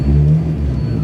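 A Nissan Micra fitted with a Hayabusa motorbike engine pulls away on its first clutch release, giving a loud, close, deep engine rumble that holds steady with no talking.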